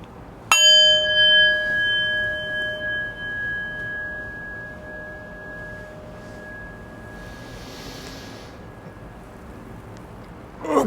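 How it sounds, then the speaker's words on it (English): A meditation bell is struck once, loud and clear, then rings on with a long, slowly fading tone in a quiet room. "in just a moment I will ring the bell"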